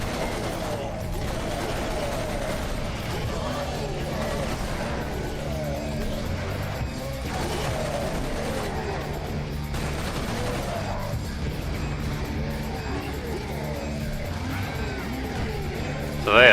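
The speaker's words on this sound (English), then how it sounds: "Oh, I'm being shot to death with bullets." Sustained gunfire in Serious Sam Fusion rattles on at a steady level for over sixteen seconds, with dense overlapping shots and game noise and speech-like sounds mixed in.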